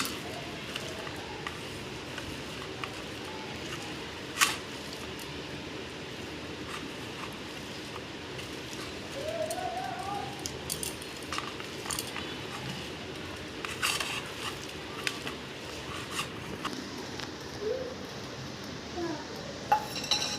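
Ground prawn heads being mixed by hand in a bowl for prawn balls: soft squishy mixing with scattered clinks of dishes and utensils, fairly quiet, with faint talk in the background.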